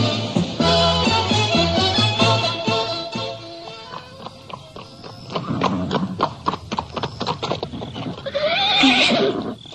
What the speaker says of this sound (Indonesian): Ada beberapa ekor kuda berhenti di depan rumah kita.